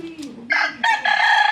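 A bulik rooster crows in a farmyard pen, a loud, close call of several rising and sustained strained notes, preceded by a brief lower clucking murmur.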